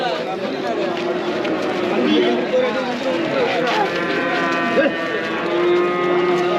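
Native cattle heifers low and moo at a busy rural livestock market, the calls rising over a steady hubbub of crowd chatter and nearby talk throughout.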